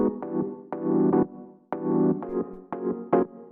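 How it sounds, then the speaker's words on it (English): A house beat with heavy sidechain compression keyed to the kick, its chords and pads ducking and swelling back in a steady pumping rhythm, loud and close with no talk. "you can hear like this is a pretty heavy sidechain"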